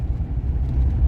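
A vehicle rolls along a rural border road near North Portal, a steady low engine and tyre rumble heard from inside, continuous and fairly loud without any voices.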